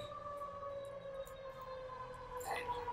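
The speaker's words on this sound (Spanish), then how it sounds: "Una ambulancia." An ambulance siren wails in steady rising and falling tones, fairly faint and distant outside a podcast recording, with a brief noisy burst near the end.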